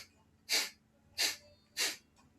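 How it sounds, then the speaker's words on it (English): Three sharp, forceful nasal sniffs spaced about two-thirds of a second apart, each a short airy burst, part of a segmented exhale in a breathing exercise; close and clear against a quiet background. "And then a complete exhale in 5 sniffs."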